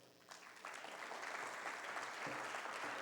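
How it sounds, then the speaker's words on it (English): A conference audience breaks into applause for PBARC, a brief quiet pause followed by a fairly soft, even swell of many hands clapping that holds steady to the end. "Big round of applause for PBARC."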